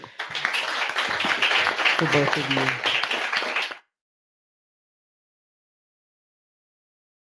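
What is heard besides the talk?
audience applause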